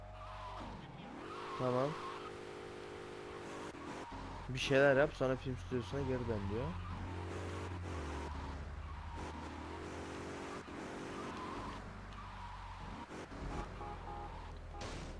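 Car in GTA Vice City Definitive Edition accelerating and skidding, with revving engine and bursts of tire squeal, loudest around the middle, while someone talks over it.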